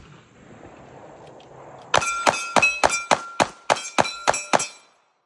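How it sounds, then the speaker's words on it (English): About ten sharp, ringing pistol shots fired in quick succession through the AB prototype Havoc port system using 140-grain SMB rounds, each a loud clang with a metallic ring, after a quiet lead-in. "Now we're gonna shoot 140 SMBs through the AB prototype"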